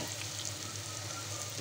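Bitter gourd frying in a pan, a faint continuous sizzle with soft crackle, steady and close, with no talking.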